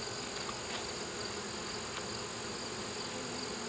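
Honeybees buzzing around an open hive with lots of brood, a dense, continuous close-up drone of many insects, fairly quiet and steady with no talking.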